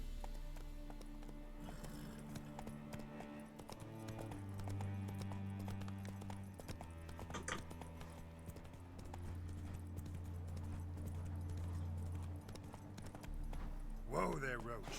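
Hooves clip-clop steadily as the horse Roach gallops in The Witcher 3, a continuous rhythmic beat under game music and voices talking over it.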